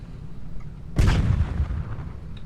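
A sudden loud explosion blast from the Tanki Online tank game, a sharp boom with a rumbling tail that fades over about a second and a half, with no talk over it.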